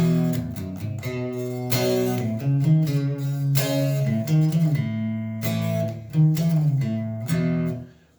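A song's riff played on a clean electric guitar tone, without distortion or overdrive, as a moderately loud series of clear picked notes and short chord stabs in a repeating pattern, with no voices.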